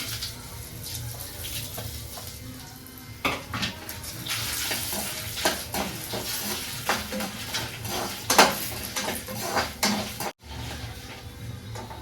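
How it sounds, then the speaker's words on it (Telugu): Peanuts and dried red chillies frying in a pan for a fresh coconut chutney, a steady close sizzle with frequent scraping stirs and clinks of a spoon against the metal pan, continuous and fairly loud, no talking. "వేరుశెనగ పప్పు అయితే వేగిపోయింది ఇంకా మిరపకాయలు అయితే వేస్తున్నాను"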